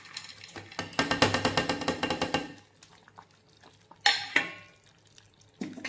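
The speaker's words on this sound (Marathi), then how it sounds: "आणि छान असं मिक्स करून घेऊया आता आणखीन एकदा" A spoon scrapes and clinks rhythmically against a pot while sweet sago kheer with cardamom powder and ghee-roasted cashews and almonds is stirred, a fast steady run of strokes followed by a few slower, separate scrapes.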